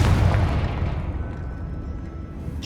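A Confringo blasting spell explodes in Hogwarts Legacy: one loud, deep boom opens and then fades into a rumbling decay.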